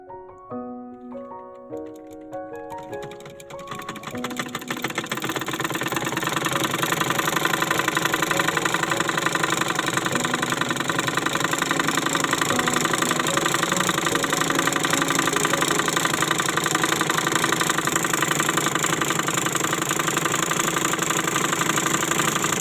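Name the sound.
sewing machine running, winding thread onto bobbin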